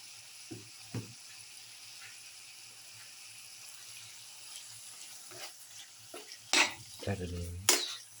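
Ground basil and lamb pieces are stirred in a pan over a steady low sizzle, with scattered scraping strokes that build into louder clattering and spatula scrapes toward the end, close and with no talk.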